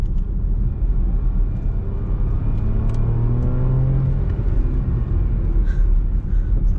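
A Porsche Macan S engine in Sport Plus mode accelerates with a loud, steady rumble and a rising drone that climbs through the revs, alone without talk.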